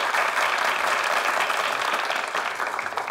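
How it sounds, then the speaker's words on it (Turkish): A studio audience at a Turkish comedy sketch show breaks into dense, loud applause, many hands clapping together in a continuous roar that stays strong for about three seconds and eases slightly at the end. "Alkış"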